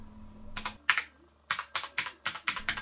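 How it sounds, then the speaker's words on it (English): Typing on a new computer keyboard with a typewriter-like clack: a handful of crisp, close keystrokes in short, uneven bursts, alone in a quiet room. "Also, it sounds like a typewriter too."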